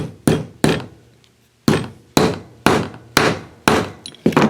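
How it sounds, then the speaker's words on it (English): A hammer whacks a piece of copper pipe flat in seven sharp, loud blows, with short irregular pauses between strikes and one longer gap after the second hit. "take a hammer and whack it flat"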